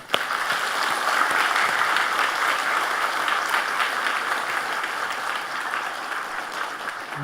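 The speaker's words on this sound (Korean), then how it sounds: "우리 모두 함께 박수합시다." A church congregation applauding together, dense sustained clapping from many hands that starts abruptly, stays loud and even for several seconds, then slowly thins near the end.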